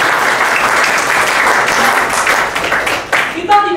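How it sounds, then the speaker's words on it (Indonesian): Classroom applause from students breaking out at a teacher's prompt, a dense steady patter of many hands clapping that thins near the end as a few louder claps and faint voices come through. "Oke, berikan tepuk tangan."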